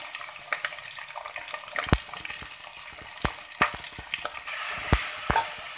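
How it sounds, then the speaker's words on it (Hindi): Half a kilo of keema frying in hot oil with golden onions gives a steady sizzle, broken by sharp clinks and scrapes of stirring at close range, with no talking. "हमने इसको भूनना है जब तक कीमे का कलर चेंज हो"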